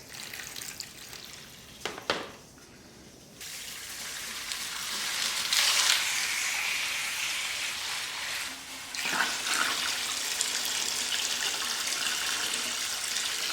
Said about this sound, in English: now it's time to add water